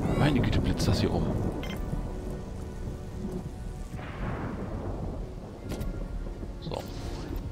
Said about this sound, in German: Meine Güte, blitzt das hier um.